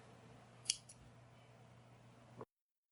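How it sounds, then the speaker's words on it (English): Scissors snip through crochet yarn in one sharp, close cut, followed by a fainter second click, over a quiet room hum with no voices. "I'm gonna once again cut my yarn and change colors"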